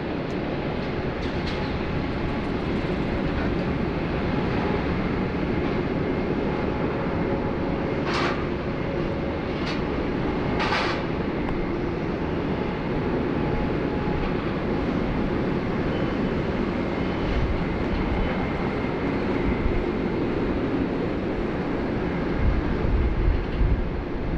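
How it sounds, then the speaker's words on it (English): A Qantas Flight 11 airliner departs Sydney Airport for Los Angeles, its engines a steady broad roar heard from a distance at a live plane-spotting spot, with a few faint higher whistles over the rumble. "this is Qantas Flight 11 heading off to Los Angeles, sunny California"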